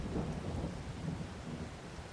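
Rain and thunder in the farming video game Farming Simulator 22, with rain pattering steadily while low thunder rumbles underneath throughout the short stretch.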